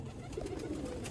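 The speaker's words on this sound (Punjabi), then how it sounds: "ਅਯਾਜ਼ ਭਾਈ ਦਾ ਇੱਕ ਨਯਾ 22 ਨੰਬਰ ਬਰੀਡਰ ਕਬੂਤਰ ਹੈ ਬਹੁਤ ਓਲਡ ਹੋ ਚੁੱਕਿਆ" An old breeder pigeon coos softly and briefly at close range, a low throaty murmur against faint background noise.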